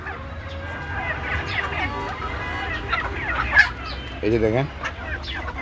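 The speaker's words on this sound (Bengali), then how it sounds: "আমার এখানে কতগুলো মুরগি একসাথে দেখা যাচ্ছে।" Native country chickens, a laying flock, cluck together in a yard with a steady low murmur of calls and a brief louder squawk, while someone talks over them.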